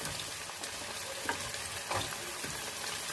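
Onion, paneer and potatoes fry in a pan for veg biryani with a continuous close-up sizzle, broken by a few soft stirring scrapes and pops.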